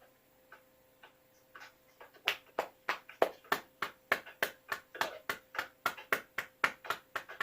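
Hands pat rhythmically on a sore spot on the neck area during a ruqyah healing session, a fast run of sharp, close slaps that starts sparse and then repeats steadily, about three per second.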